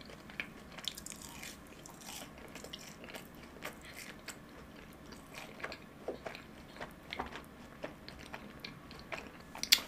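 Crunchy bites and chewing on BBQ golden egg cheese balls with a cheesy choux-cream-like filling, a steady stream of close, crisp crunches and mouth sounds throughout, with no talking.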